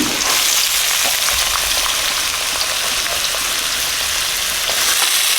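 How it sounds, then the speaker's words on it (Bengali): Potatoes and carrots fry in white oil in a wok, giving a loud, dense and continuous sizzle like heavy rain, close up, steady throughout with faint stirring taps and no voices. "সাদা তেল দিয়ে দিচ্ছি আলু আলু গাজর একসাথে ভেজে নেব"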